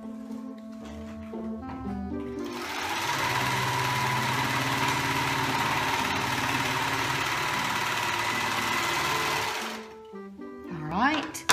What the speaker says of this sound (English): So I'm going to serge my band.